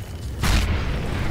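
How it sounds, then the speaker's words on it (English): A grenade explodes in a tactical shooter video game, a single deep boom that lands suddenly and close. Its low rumble lingers for about a second under the game's ambient noise. "I am throwing a grenade!"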